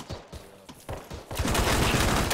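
Gunfire in the military video game Arma 3 sounds as scattered sharp reports, then a dense, continuous burst of rapid shots that grows louder toward the end.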